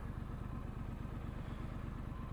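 A 2021 Triumph Street Scrambler's engine runs with a steady, even low rumble, close and continuous with no speech over it.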